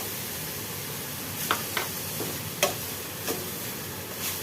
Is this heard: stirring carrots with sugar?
yes